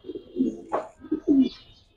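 An old-generation Giribaz pigeon coos softly at close range, giving two or three low, throaty rolling coos with short pauses between them in an otherwise quiet space.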